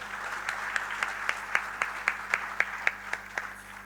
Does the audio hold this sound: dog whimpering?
no